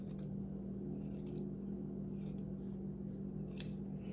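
Scissors cut through thick dress fabric in faint, soft snipping and rasping strokes over a steady low hum, with one sharp click near the end.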